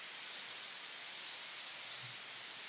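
A Milton air wand blows compressed air, a steady loud hiss of rushing air with a constant broadband rush that holds unbroken for nearly three seconds.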